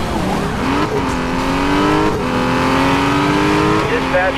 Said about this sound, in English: Here we are, you know, racing down the highway.